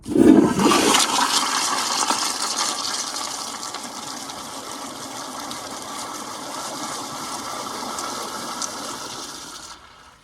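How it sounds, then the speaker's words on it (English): A 2015 Kohler Highcrest rear spud flushometer toilet flushes loudly with a sharp initial whoosh, then a sustained rushing of water that slowly tapers off before stopping. "this is my first rear spud flushometer toilet. So yeah, let's see if it could take this."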